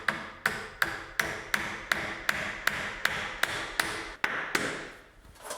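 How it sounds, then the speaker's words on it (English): Hammer driving a nail into a timber wall frame, about a dozen sharp, evenly spaced blows ringing close and loud, with the rhythm loosening toward the end. "Roger, why don't you go ahead and put a nail in there to just hold it in place."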